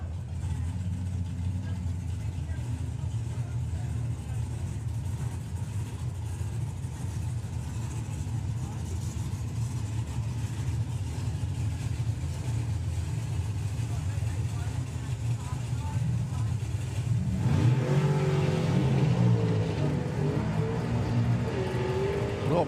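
Drag racing cars at Santa Pod Raceway during the FIA Euro Finals, a sustained loud engine roar from the track that swells further near the end, with commentary running over it.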